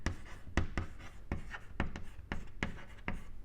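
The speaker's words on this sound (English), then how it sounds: "Here I can write" Chalk or marker taps and scrapes on a board during a lecture on atomic structure, a series of short sharp strokes in an irregular rhythm, fairly quiet and close.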